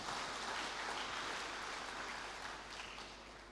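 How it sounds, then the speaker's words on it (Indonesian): Steady applause from a crowd at a university graduation ceremony, a dense wash of clapping that holds throughout and fades slightly toward the end. "Tepuk tangan untuk anak-anak muda kita."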